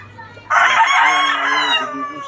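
A rooster on a backyard gamefowl farm lets out one loud, close crow lasting nearly two seconds, after a brief low murmur of background sound.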